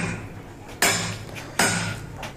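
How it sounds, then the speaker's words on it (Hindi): A big hammer breaks away a plaster layer to remove tiles, landing two loud, sharp impacts roughly a second apart over steady background noise. "इसीलिए हमने बड़े हथौड़े से काम लिया है"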